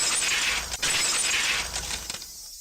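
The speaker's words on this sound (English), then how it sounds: "The unpleasant piercing sound of shattered glass." Glass shattering effect from the visual novel Higurashi, a loud sustained crash and crunch of breaking shards lasting about two seconds before cutting off abruptly to silence.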